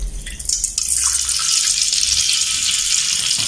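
Water drained off a pot of boiled rice while making sweet Mutanjan rice: a loud, steady gushing splash that starts after a brief clatter and runs on evenly, with no talking.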